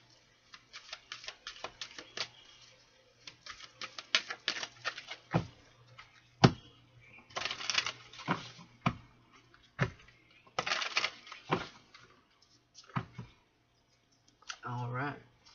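Crisp irregular clicks and riffling bursts of playing cards being shuffled and handled up close, in uneven clusters with brief pauses between.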